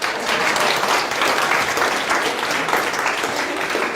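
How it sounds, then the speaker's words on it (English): Steady, dense audience applause from a crowd at a motivational talk, loud and even throughout with no pause. "Give yourself a round of applause."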